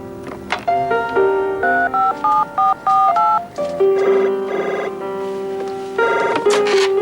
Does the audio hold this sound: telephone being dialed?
yes